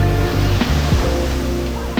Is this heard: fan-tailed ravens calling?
no